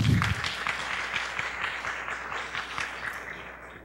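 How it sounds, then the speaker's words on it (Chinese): An audience at a university lecture on national energy policy gives a warm round of applause, steady even clapping that starts full and gradually fades out over a few seconds. "我们用掌声欢迎李敏院长"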